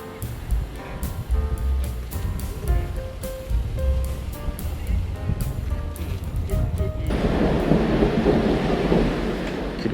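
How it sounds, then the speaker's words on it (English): Thunder rumbles repeatedly through a steady downpour in Porthcawl, with low rolling booms and sharp cracks over constant rain hiss, the rain swelling into a heavier, denser wash near the end. "The rain has arrived, along with the thunder."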